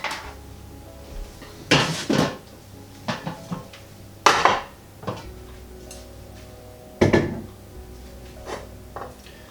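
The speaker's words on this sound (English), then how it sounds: "what I need now is my large stock pot" A large stock pot is lifted and set down on a camping stove, several loud metallic clanks and knocks with short gaps between, close by in an otherwise quiet space.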